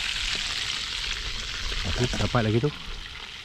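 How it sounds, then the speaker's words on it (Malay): Fish fries in a pan at a riverside camp under a tent in heavy rain, giving a steady sizzling hiss throughout while someone talks over it. "So, kita goreng lah ikan ni."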